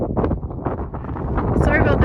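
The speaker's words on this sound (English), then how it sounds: "It is really windy," Strong wind on a mountain in Saskatchewan buffets the microphone in loud, uneven rumbling gusts.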